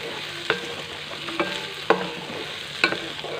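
Green chillies fry in a pan for a pickle with a steady low sizzle. Four sharp scrapes of a spoon stirring the pan sound at irregular intervals, close and clear.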